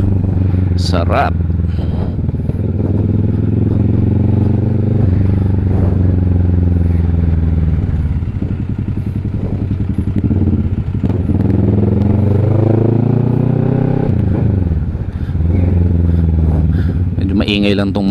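A Triumph motorcycle engine with an aftermarket exhaust rumbles loudly and throatily, revving and settling while a rider talks over it.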